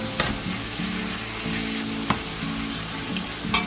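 Egg roll in a bowl mixture frying in a pan, a loud close sizzle broken by a few sharp utensil scrapes as it is stirred.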